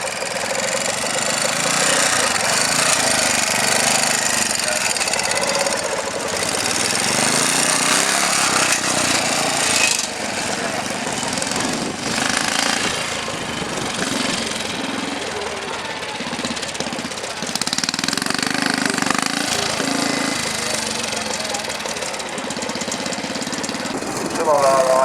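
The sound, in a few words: Enfield trials motorcycle engine running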